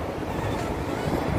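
Wind blows on an outdoor stroll, a continuous loud, rough rumble buffeting the microphone with no pauses.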